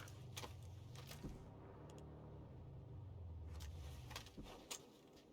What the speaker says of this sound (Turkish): Bak araba sesi geliyor buraya doğru.